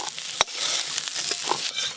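Crabs fry in frothing ghee with a dense, close hiss and crackle, a sharp tap near the start and small pops scattered through.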